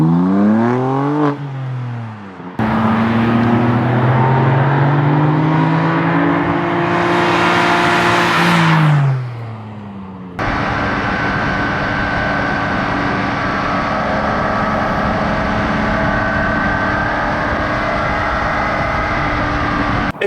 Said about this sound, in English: Let's go for a drive. It's the BMW M4, the ultimate road and track car.